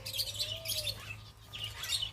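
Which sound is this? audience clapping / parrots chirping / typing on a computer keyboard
parrots chirping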